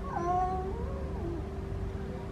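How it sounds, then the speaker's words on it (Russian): A cat meows in a drawn-out, wavering call that slides downward and then holds a steady tone, close by over a low background hum, with no talking. "Ты кошка или кот?"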